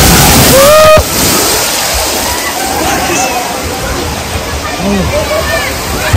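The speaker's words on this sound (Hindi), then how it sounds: "ऊपर से पानी आया" At a waterpark ride in Pune, water pours down from above in a loud, continuous rushing slosh, close by, with a voice speaking over it.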